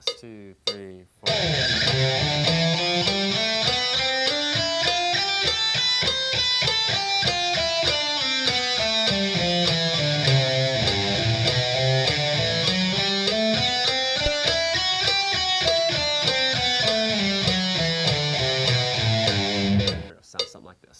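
Electric guitar runs a connected pentatonic scale up and down across the neck in quick, even notes, with a distorted, effects-laden tone, loud and continuous for about twenty seconds after a short pause.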